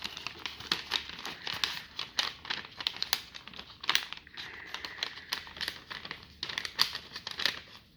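A sheet of paper is folded and creased into a paper plane, giving soft crinkles and sharp rustling crackles in uneven bursts, close and fairly quiet, with no voices.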